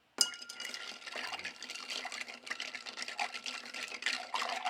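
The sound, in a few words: cocktail poured back into a mixing glass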